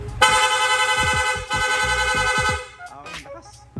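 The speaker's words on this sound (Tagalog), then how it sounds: "Meron po itong rapid horn, long press lang po yung horn switch" A loud rapid horn on a Yamaha Sniper 155 motorcycle sounds in two long sustained blasts, with a brief pause between them, followed by quieter mechanical clicks.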